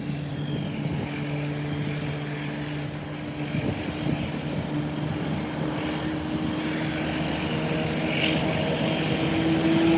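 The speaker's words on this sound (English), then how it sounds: "And here's the Cessna. Now pulling into the taxiway, heading to the eastern parking ramp." A Cessna propeller plane taxiing toward a parking ramp, giving a steady droning engine hum with a low, even tonal buzz that stays moderately close and grows a little louder near the end.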